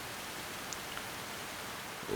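Steady Minecraft rain: an even, soft hiss of falling drops throughout, with no distinct individual impacts.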